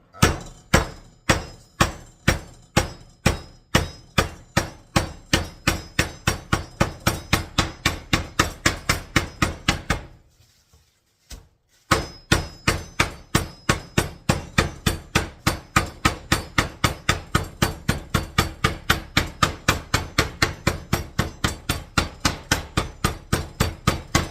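Rapid, steady hammer blows thud against meat in a bag on a wooden plate, dozens in a row, pausing briefly midway before the pounding resumes at the same brisk rhythm.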